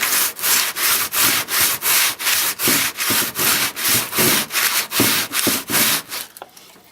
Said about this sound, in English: I'm going to take a wooden block with a piece of sandpaper wrapped around it